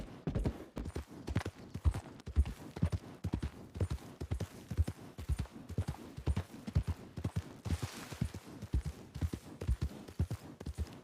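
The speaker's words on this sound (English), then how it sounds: "I spy with my little eye a horse." Horse hooves clip-clop in a steady, even rhythm, a quiet continuous series of dull knocks lasting about eleven seconds, with no talking.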